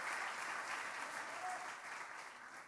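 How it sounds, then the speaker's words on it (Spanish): A church congregation claps together in sustained, dense applause during a Spanish-language sermon, steady throughout and tapering slightly toward the end. "Démosle otro aplauso al Señor"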